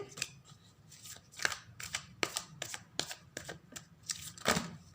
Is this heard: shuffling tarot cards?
yes